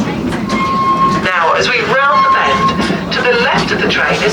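A small passenger train rolls around the grounds of Whipsnade Zoo in summer, its steady running rumble and wheel noise continuous and fairly close, with a brief high whistle tone and a narrator talking over it throughout.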